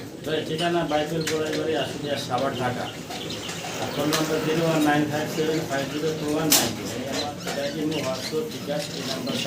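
Pigeons coo in soft repeated throaty phrases nearby while a person talks over them, with occasional rustles and flutters.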